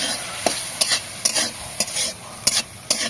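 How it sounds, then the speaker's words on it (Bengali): Boiled beetroot, carrot and peas are stirred in an uncovered pan with the lid just removed, giving a soft continuous sizzle punctuated by about six sharp spatula scrapes and taps against the pan, close up. "এবার একটু নেড়ে চেড়ে নেবো ভালো করে"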